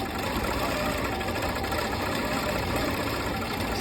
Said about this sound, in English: So I'm gonna do a little quilting and show you how awesome this is.